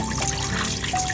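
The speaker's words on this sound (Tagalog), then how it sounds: "I-drain natin siya" Soaked flour's water being slowly poured off, a steady close trickle and dribble of liquid running on without any voices.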